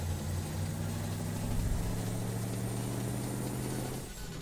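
An old truck's engine idles steadily at a roadside stop with hazard lights on, a low rumbling drone holding for several seconds before easing down slightly at the end.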